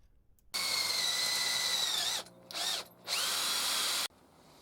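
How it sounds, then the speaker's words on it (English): A power drill bores two 6 mm holes into the heel of a carved wooden figure, a close whining motor that runs, dips briefly, spins up in a short burst, then runs again before stopping. "2 6mm holes are drilled in the heel part of the feet."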